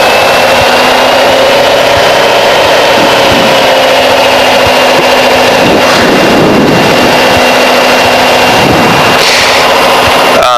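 A Cessna 185 piston engine is run up to 1700 RPM during preflight checks, a loud, constant drone with a faint voice in the background.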